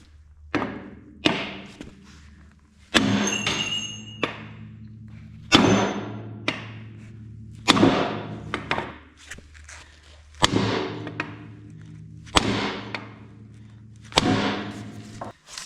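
A hammer strikes a John Deere two-cylinder Dubuque standard front axle to knock the knee loose, giving about a dozen sharp metallic blows at irregular intervals, each ringing briefly, close and loud with no talking.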